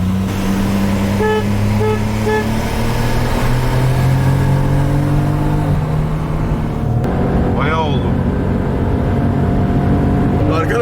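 A Brabus Smart car accelerates hard on a test drive, its engine a loud steady drone rising in pitch through the gears, with gear-change dips and people talking inside the cabin over it.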